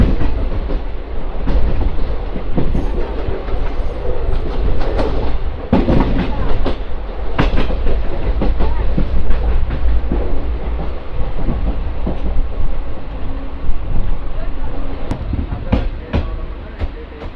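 Visakhapatnam–Tatanagar weekly superfast express rushing past at speed, a loud continuous roar of wheels and carriages with rhythmic clicks over rail joints throughout.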